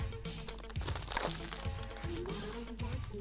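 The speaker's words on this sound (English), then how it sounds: "when I've taken the cellophane off" Cellophane wrapping is peeled off a cassette tape, crinkling and crackling up close in a continuous rustle with a few sharper crunches.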